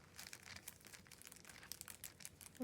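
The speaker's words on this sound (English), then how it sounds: "a little crinkling, and we'll be able to hear and enjoy that as we're thumbing through and using our journal" Recycled cellophane packing on a handmade journal cover crinkles softly in brief, close bursts of crackle over about three seconds, faint and with no talking.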